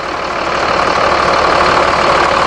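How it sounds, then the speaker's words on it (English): A Mercedes engine idles steadily in the rear engine compartment of a 2008 Thomas Saf-T-Liner HDX school bus, a loud, close, even hum with a rough mechanical texture and no talking. "There's that Mercedes humming along there"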